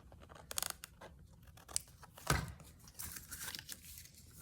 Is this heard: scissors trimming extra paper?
yes